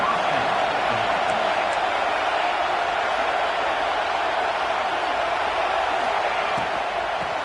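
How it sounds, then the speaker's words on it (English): Steady stadium crowd roar in an NCAA college football video game, a loud continuous wash of massed voices with no pauses, rising behind a defensive play. "Here comes the crowd noise, trying to help this defense out."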